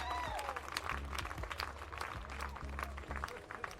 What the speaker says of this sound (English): Have you just put a clap in? I can half hear the clap.